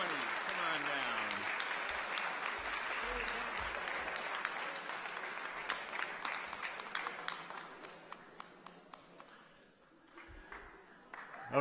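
An awards-night audience at Forester Night applauds the first-place winners, Roaring Twenties, with sustained, dense clapping that thins out toward the end, plus a few sharper individual claps and some voices.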